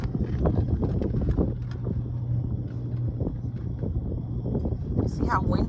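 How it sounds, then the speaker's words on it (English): Strong desert wind buffets a microphone wind guard in Quartzsite with a constant low rumbling roar, loud and close, while a person talks over it. "You see how windy it is? Blowing around my wind guard."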